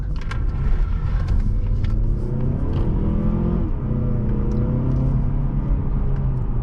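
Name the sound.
car engine accelerating hard in sport mode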